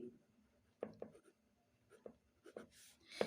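A pen writing on paper during a school maths lesson, with a few short scratchy strokes scattered through quiet background and no other sound.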